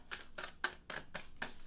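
Five quick, crisp bursts of tarot cards riffling and sliding, evenly spaced about a third of a second apart, close and fairly quiet.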